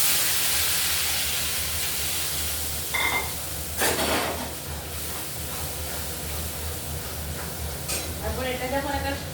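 Dried lote fish slipped into hot mustard oil in a home kitchen, giving a steady close frying sizzle and hiss with brief clinks and stirring of the pan, and a short burst of talk near the end.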